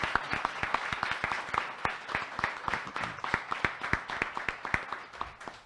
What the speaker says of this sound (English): May we give all of our amazing scholars and all of our amazing educators a round of applause